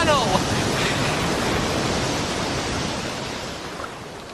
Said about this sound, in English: There are waves breaking over our gunwale.